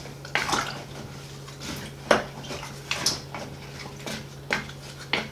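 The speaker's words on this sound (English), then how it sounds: "the only thing left to do is stir that around" A spoon stirs a homemade apple cider vinegar mixture in a container, giving irregular metallic clinks and scrapes with wet swishing between them over a low steady hum, close by and fairly quiet.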